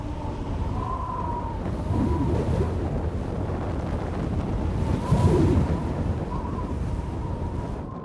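Storm wind buffets a boat at anchor in Patagonia, a steady roar of gusts and surging waves with no voices, swelling louder in two bursts around the middle and near the end.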